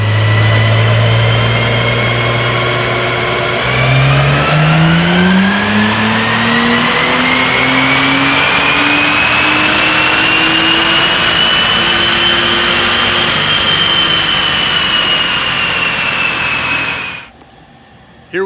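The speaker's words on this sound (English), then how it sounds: "So we are running this in all-wheel drive in 4th gear on the Mustang dyno." An Acura NSX on a Mustang all-wheel-drive dyno runs in 4th gear with an aftermarket exhaust, its engine note climbing steadily in pitch over a long loud pull, then cutting off abruptly near the end.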